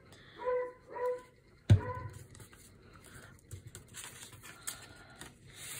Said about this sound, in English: I may be stopping here to deal with dogs again